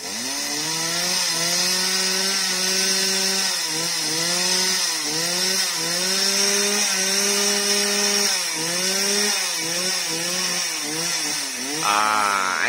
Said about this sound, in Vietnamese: Giờ anh tìm cái thế anh đứng cho nó an toàn là anh cưa cho nó ngã luôn rồi các bạn